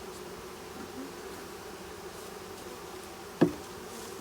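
Honeybees from a newly installed hive of about 30,000 bees buzz faintly and steadily outdoors, with one brief louder thump partway through.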